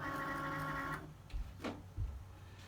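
Cricut Maker cutting machine loading a cardstock mat: a close, quiet motor whir that stops after about a second, followed by a few soft clicks and thumps.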